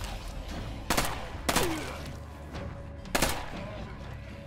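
Rapid small-calibre gunfire from a State of Decay 2 firefight, sounding as a few sharp broadband bursts over a busy game background, with someone talking over the action.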